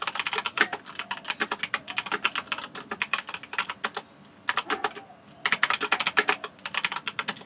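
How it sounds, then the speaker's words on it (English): Rapid clicking of a Corsair K95 RGB Platinum mechanical keyboard being typed on, in bursts with brief pauses, close and crisp with no talking. "So here is a quick noise test of the keyboard."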